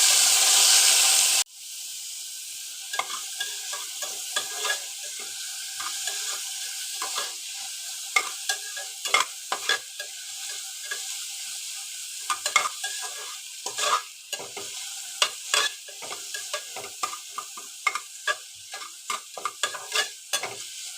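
Cumin, dried chillies, onion and garlic frying in a hot pan make a continuous close hiss, briefly louder at first, with frequent spatula scrapes and clatters as they are stirred.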